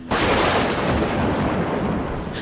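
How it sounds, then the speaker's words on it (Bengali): A loud, sustained rumbling crack of thunder fills the whole moment, broad and booming with no voices. "হঠাৎ কর কর বাজ পড়ার শব্দে ঘুমটা ভেঙে গেল ওর।"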